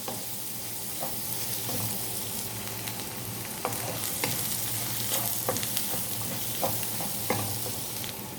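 Finely chopped onion and sausage sizzle in a hot pan as they are stirred, with a continuous frying hiss and scattered light scrapes and clicks from the utensil, close up and with no talk.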